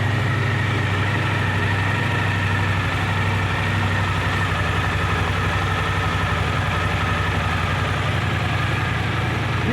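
A Suzuki GSX-8S motorcycle engine idles steadily, a low, even rumble that holds without change throughout.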